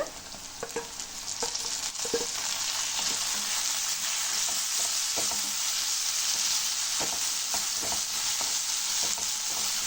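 Tomatoes sizzling and crackling in hot oil in a pan for drumstick gravy, a steady dense frying hiss with occasional scrapes and clicks of stirring, close and continuous with no talk.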